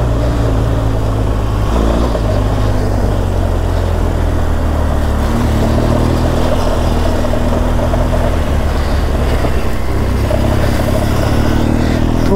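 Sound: BMW GS 1200 motorcycle riding on rough dusty track

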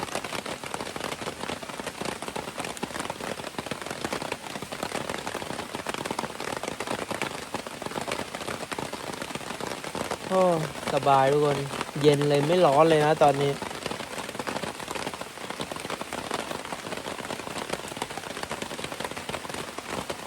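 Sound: rain falling

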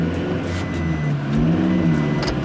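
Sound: pickup truck engine revving, loud exhaust

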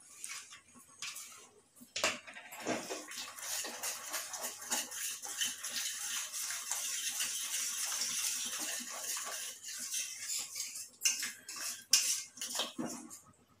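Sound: spoon stirring chopped almonds into Bombay halwa in pan

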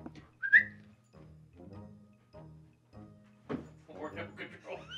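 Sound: whistle

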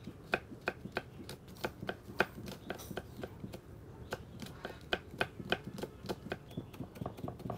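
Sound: chopping chili peppers with a knife

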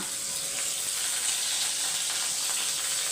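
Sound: potatoes frying in oil

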